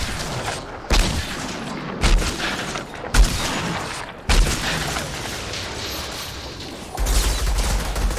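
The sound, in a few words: gun firing until emptied in video game Outriders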